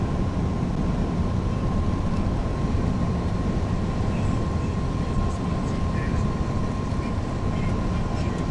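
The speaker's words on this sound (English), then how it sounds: "it's getting the van noise" Steady, loud low rumble and hiss of road noise inside a moving van, with a faint constant hum and no breaks.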